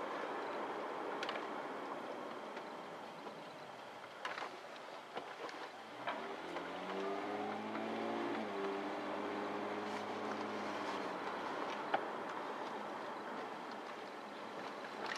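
A GAZ-20 Pobeda body on a Toyota Mark base, weighing about 1700 kg, drives with a quiet, steady low engine drone that rises and falls in pitch midway, all under faint road noise.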